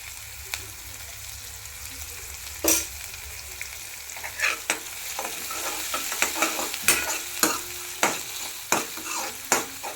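Onions with turmeric frying in a pan for fenugreek leaf curry, a soft steady sizzle under repeated scraping stirs that grow busier and more regular, close and fairly quiet, no voices.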